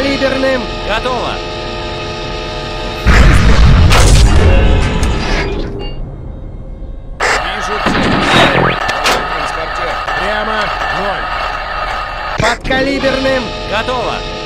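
A tank cannon firing a subcaliber round in a tank simulator video game: one heavy, loud blast that rumbles for a few seconds over a constant mechanical hum, with crew voices talking throughout.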